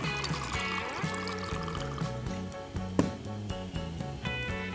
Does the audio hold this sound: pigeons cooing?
no